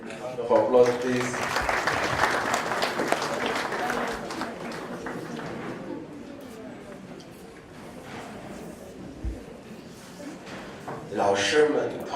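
An audience at an HSK graduation ceremony claps in a round of applause that swells early and tapers off, with voices talking over and after it.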